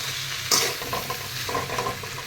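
Fish and brinjal curry sizzles steadily in a pan on a gas flame, with a sharp scraping stir about halfway through and softer spoon strokes after it, all close by.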